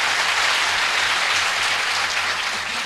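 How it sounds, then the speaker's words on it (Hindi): A crowd applauds loudly and continuously, dense clapping filling the whole stretch without a break. "एक बार भाई के लिए जोरदार तालियां बजा दी"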